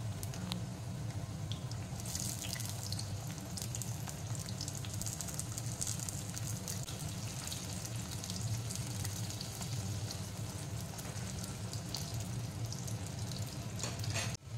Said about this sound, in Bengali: আলুর সাথেই আমি রাঙালুগুলিও দিয়ে দেব ভাজার জন্য।